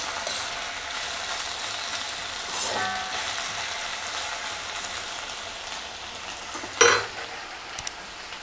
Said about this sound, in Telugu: ఇది కొంచెము బాగా ఫ్రై అయిపోవాలి